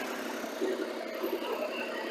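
The standard exhaust of a Triumph Tiger Sport 660 motorcycle idles nearby, a steady mid-pitched engine hum with slight pulsing, fairly quiet and with no talk over it.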